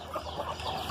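A flock of about thirty laying hens clucking at feeding time, a steady murmur of overlapping clucks close by with no talk over it.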